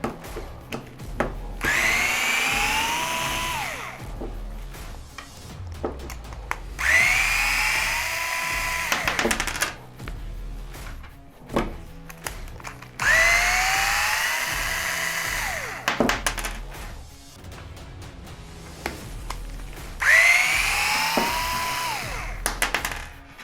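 A power driver backs out 3mm hex head screws from the power module of an Arrma Kraton 8S RC truck in four separate whirring bursts of several seconds each, with clicks and short pauses between them.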